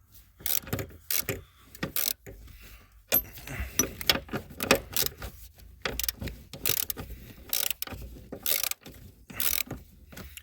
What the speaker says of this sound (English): I don't feel like airing up my compressor, so I'm hand wrenching today.